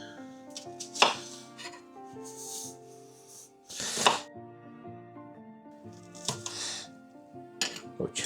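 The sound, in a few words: chopping an onion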